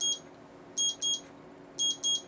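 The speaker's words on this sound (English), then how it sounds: "my beeper's beeping on me" An electronic beeper sounds in quick pairs of high, shrill beeps, repeating with a pause between pairs over a quiet background hum, near a Dolby tape processor.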